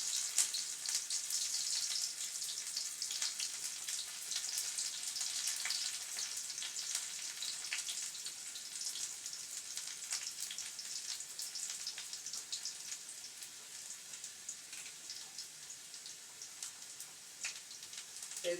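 Onion and curry leaves fry in hot oil for a sambar tempering, giving a steady, close crackling sizzle that runs without pause and with no talk.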